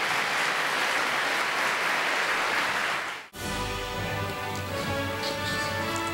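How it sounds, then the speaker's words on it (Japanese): Loud, dense applause from a large audience at an awards ceremony fills the first three seconds, then cuts abruptly to a bright, steady musical sound with rhythmic ticking. "皆様大きな拍手をお送りください"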